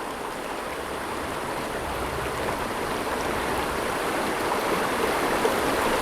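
A river stream flows in a steady, continuous broadband rush of water, close and even throughout, with no voices.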